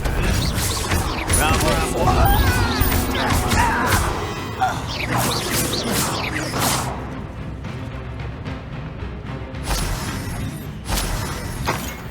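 The Confringo blast spell in Hogwarts Legacy produces loud crashing, shattering impacts and fiery bursts amid frantic combat noise, with shouted voices over the din before it thins out.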